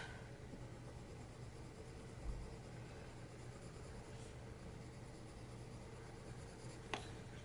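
A colored pencil scratches steadily across paper in continuous close, quiet strokes, with a faint low background hum and a couple of small taps.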